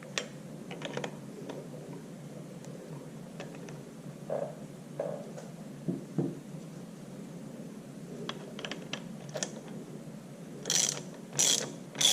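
Bolts being tightened on the engine front plate of an IHC Farmall Super MTA tractor: quiet, irregular ratchet clicks and small metallic taps come in short bursts, with a few sharper clatters near the end.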